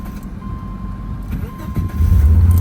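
Toyota MR2 Spyder engine running after a start, a steady low idle rumble that grows louder and heavier toward the end, heard close by with no talk over it.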